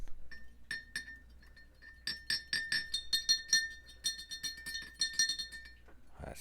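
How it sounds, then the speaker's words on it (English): A metal part is swirled in acetone inside a glass container for degreasing, giving a run of bright, rapid clinks and chinks of metal against glass that rise and fall in bursts, close and fairly quiet. "we're just gonna give it a good swirl around in that acetone just to get the final bit of degreasing done"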